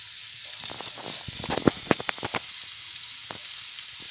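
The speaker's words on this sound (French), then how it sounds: "Pendant que mon steak est en train de cuire" A steak frying in a pan for a giant homemade hamburger gives a steady close sizzle with irregular crackling pops, heard alone without talk.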